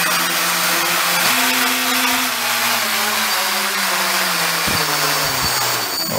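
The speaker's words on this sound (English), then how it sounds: "Calibrating engines." Quadcopter motors whine in layered electric tones as they spin up during calibration, the pitch stepping up and down through speed increments, loud and close with brief dropouts.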